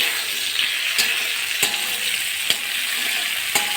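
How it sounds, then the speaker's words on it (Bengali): Chopped tomatoes go into a pan of frying onions, bringing a loud, even sizzle punctuated by four crisp clicks of a utensil against the pan, heard up close with no voices. "পেঁয়াজগুলো ভাজা হয়ে গেছে, আমি টমেটো দিয়ে দিচ্ছি।"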